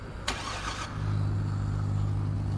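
A Honda car in the Car Parking Multiplayer 2 mobile driving game starts up with a short click and whoosh, then settles into a steady, low engine drone as it pulls away in first gear.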